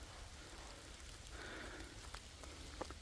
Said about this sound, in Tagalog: nagkaroon ng sikat ang araw pero umuulan pa rin